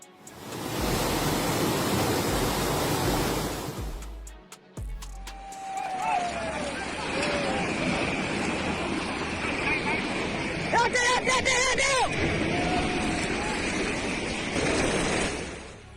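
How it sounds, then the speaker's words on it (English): Floodwaters rush through Dinant, Belgium, sweeping away vehicles, a steady loud roar of churning water throughout with brief crashing bursts and some background voices. "Floodwaters like a water dragon in Dinant, Belgium, swept away vehicles"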